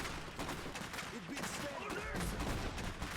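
Gunfire in the real-time strategy game Iron Harvest: a busy battlefield with repeated rifle and machine-gun bursts and rumbling impacts, fairly quiet in the mix, with short voiced unit commands and chatter over the top.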